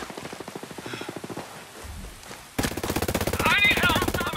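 Rapid automatic gunfire from hostiles in the video game Ghost Recon Breakpoint, a fast rattling burst that pauses briefly and then resumes louder, with a voice heard over it.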